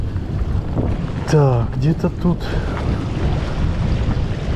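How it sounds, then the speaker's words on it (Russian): Fresh wind blows by the sea on a Croatian shore, a constant loud rush of gusts against the microphone with surf beneath, while someone briefly speaks over it. "Ветер сегодня такой свежий."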